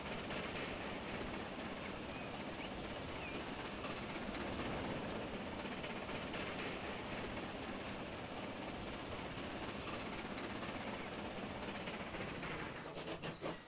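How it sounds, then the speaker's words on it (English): Train running on rails in the video game Transport Fever 2, a continuous dense rumble of rolling wheels with faint rhythmic clatter, steady and fairly quiet throughout with no voices. "We're catching up to the train."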